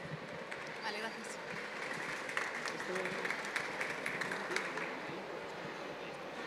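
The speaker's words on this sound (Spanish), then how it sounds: "Un aplauso, porfa." Scattered applause from an audience at a magazine presentation event, moderate and fairly distant, with crowd murmur and speech running through it.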